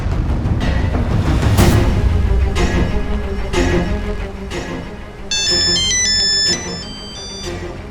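A phone rings while calling a friend, with repeated ringtone bursts over a busy dramatic background, a bright electronic melody standing out near the end.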